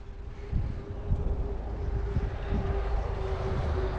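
A tractor engine running outdoors, a low steady rumbling drone with a constant hum, heard close and continuous for the whole stretch under some wind buffeting, with no talking.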